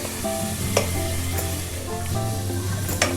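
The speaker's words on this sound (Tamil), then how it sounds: "அரைச்சி வச்சுருக்க இந்த மசாலா பேஸ்ட்டை வந்து ஆட் பண்ண போகிறோம். மசாலா ஆட் பண்ணதுக்கு அப்புறமா ஒரு 2 நிமிஷம் நல்லா குக் பண்ணிக்கோங்க." Ground masala paste frying in a pan for fish biryani, a steady close sizzle with occasional stirring scrapes and clinks, no voices.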